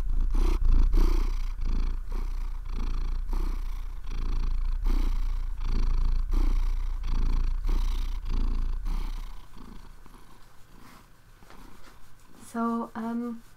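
A cat purrs right up against a microphone, a loud, close, rhythmic rumble in steady pulses that fades near the end. A person's voice breaks in briefly at the end.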